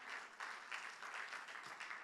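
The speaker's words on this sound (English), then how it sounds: "Give God a round of applause here today." A church congregation gives a round of applause, dense continuous clapping heard from a distance at low level, with no voices over it.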